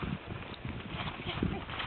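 Irregular hoof clops of a 15-year-old pony stallion on the ground close by, mixed with rustling and shuffling and some voices, muffled and low.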